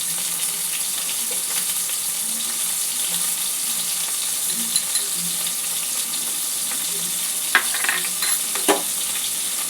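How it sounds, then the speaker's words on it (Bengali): Tomato and ginger paste fry in a pan for a curry, producing a loud, steady sizzle throughout with a few sharper spatters and stirring scrapes near the end. "সব কিছু একটু ভেজে নেব।"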